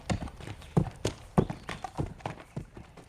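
Hooves clip-clop at a slow, uneven walk as a rider sits astride Abby, a horse ridden without a bit. The sound is close and moderately loud, with no speech.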